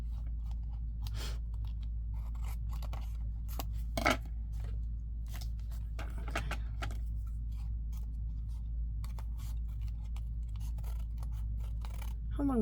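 Scissors snip excess paper from a junk journal folder made from window junk mail, a close, quiet string of small crisp cuts with short pauses between them.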